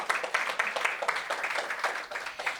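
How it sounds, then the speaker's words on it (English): An audience at a women's international forum speech claps steadily, a dense patter of many hands heard faintly from a distance, with a voice briefly over it. "You can clap."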